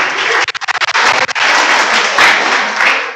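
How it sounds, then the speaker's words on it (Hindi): Students in a classroom clapping, a burst of scattered individual claps at first that thickens into steady, loud applause from the group. "अभी तालियां बजाने का ये नहीं था बेटा"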